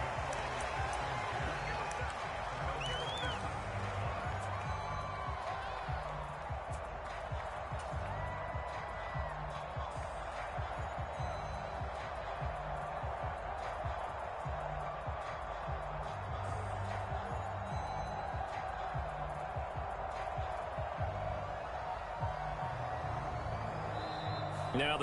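Steady stadium crowd roar and cheering from a Madden NFL football video game during a Washington versus Miami matchup, a dense continuous wash of noise that stays loud and even throughout with no clear voices on top.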